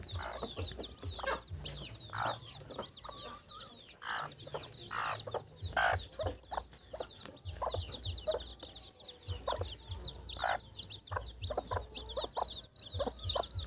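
Many tiny native chicks, freshly hatched in a homemade incubator, keep up a dense chorus of thin high peeps close by, broken by soft knocks and shuffling as they are moved.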